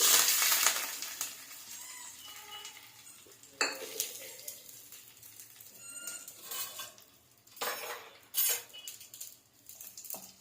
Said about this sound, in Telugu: మొత్తం ఆనియన్స్ వేసేసుకొని ఈ పోపు కలిపేసుకోవడమే